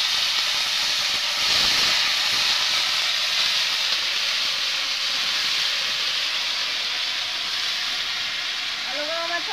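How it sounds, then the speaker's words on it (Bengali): Potatoes tipped into a pan of fried onions set off a loud, steady hiss of sizzling oil that holds for several seconds, close up and without talk. "এখন আমি আলুটা দিয়ে দেবো।"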